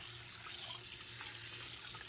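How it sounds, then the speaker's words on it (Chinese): Shredded potatoes rinsed under running tap water, a steady, fairly quiet continuous splashing stream with no talk. "炒之前，将土豆丝用水冲洗干净"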